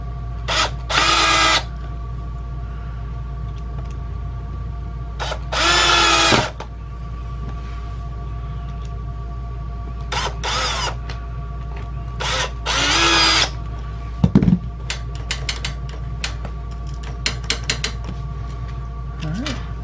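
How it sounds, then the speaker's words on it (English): A power drill drives screws back into a reclining sofa in several loud, close, whirring bursts of one to two seconds each, separated by pauses with faint clicks and handling noise. "Just put your screws back in"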